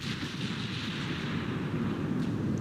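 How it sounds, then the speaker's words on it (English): Naval artillery shells rain down on the battleship Bismarck in the naval strategy game Ultimate Admiral: Dreadnoughts, a dense, continuous rumble of distant booming impacts and gunfire that rolls on without pause. "There was a whole ton of shells smacking Bismarck."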